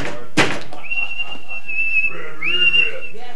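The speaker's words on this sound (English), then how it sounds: "I whistled 46 times." A person whistles a long, steady sustained note, then a rising tone, preceded by a loud thump like a door, in an old 1970s children's TV studio scene.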